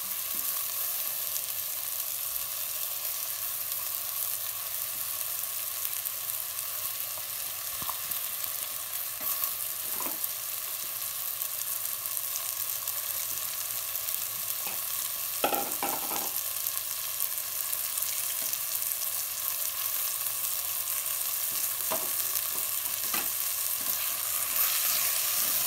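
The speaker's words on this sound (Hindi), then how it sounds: "थोड़ी देर घी में दाल को फ्राई करेंगे, भूनेंगे।" Soaked moong dal frying in ghee for a dhaba-style tadka dal, a steady soft sizzle with scattered scraping clicks of stirring, fairly quiet and close, with no voices.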